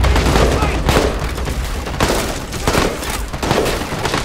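Dense gunfire crackles in a Medal of Honor Vietnam War game set at the Battle of Khe Sanh, a loud, continuous barrage of overlapping shots with heavy booms throughout.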